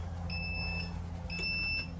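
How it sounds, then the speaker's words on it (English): An electronic device gives two clear, steady beeps about a second apart, each half a second long, close and alone over a low background hum. "It's about to beep."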